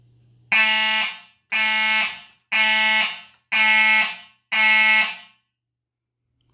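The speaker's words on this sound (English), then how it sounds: "We got this true alarm detector." A fire alarm horn sounds during a fire alarm system walk test with Simplex equipment, giving five loud, evenly spaced buzzing blasts close by, each about half a second apart, followed by silence.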